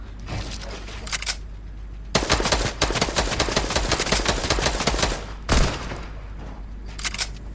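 Fortnite gunfire: a long sustained burst of rapid automatic shots, loud and close, with shorter bursts before and after.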